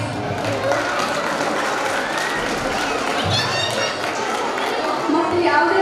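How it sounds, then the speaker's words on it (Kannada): Applause from the audience at a preschool annual day function, a dense continuous crowd clapping with some cheering and chatter mixed in, steady and fairly loud throughout. "ಅವರಿಗಾಗಿ ಒಂದು ಚಪ್ಪಾಳೆ ಪ್ಲೀಸ್."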